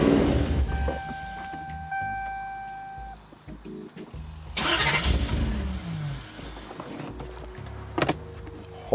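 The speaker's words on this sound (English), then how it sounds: "But when I turn the car on," A five-speed manual Lexus SC400 starting up, with a chime and whirring power-window motor, then an engine crank and catch into a mid-pitched idle with a brief rev, close and clear.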